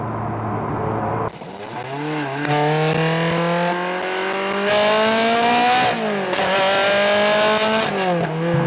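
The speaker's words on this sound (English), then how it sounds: "One of the best parts about this car is the Challenge Stradale exhaust." A Ferrari 360's V8 with Challenge Stradale exhaust revs and holds a loud, rising, rasping note, with a few quick blips and dips in pitch.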